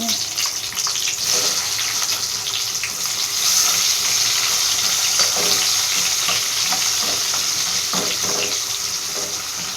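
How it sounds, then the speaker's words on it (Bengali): Chopped onions fry in hot oil seasoned with cumin seeds and bay leaf, giving a loud, constant close-up sizzle with scattered stirring clicks and scrapes. "এবার কেটে রাখা পেঁয়াজ দিচ্ছি।"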